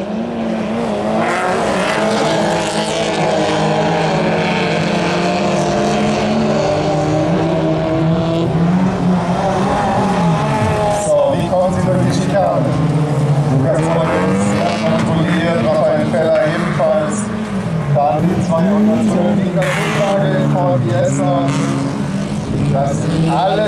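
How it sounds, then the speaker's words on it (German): A race car driving fast at an autocross event in Seelow, a loud continuous engine roar with rising and falling revs and some tire squeal, under steady commentary. "Und jetzt fährt der Lukas Kornering wieder schneller"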